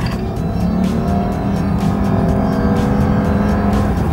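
A Lexus GS hybrid with 345 combined horsepower accelerates at full throttle, a steady loud engine drone heard from inside the car with no talk.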